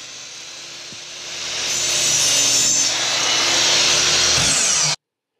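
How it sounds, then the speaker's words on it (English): Hand saw cutting a 45-degree miter through a wooden board in a miter box, a close, loud, continuous rasping stroke that swells after the first second and stops abruptly. "Set your miter cut to 45 degrees and make your first cut."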